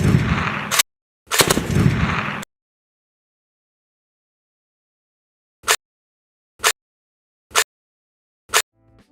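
A large machine gun with a heavy bolt fires two sustained bursts, then four sharp single reports about a second apart, each loud and close with dead silence between.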